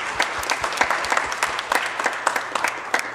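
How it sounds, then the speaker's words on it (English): A church congregation gives a close, loud round of applause, with distinct individual claps standing out in a quick uneven rhythm throughout. "I want to give you a round of applause."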